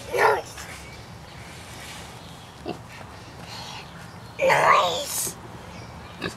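A pig on a farm grunts and oinks in two short bursts, one at the start and a louder one near the end, with people talking nearby.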